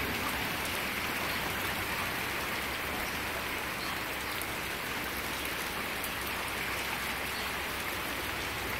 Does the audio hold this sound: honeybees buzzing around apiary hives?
no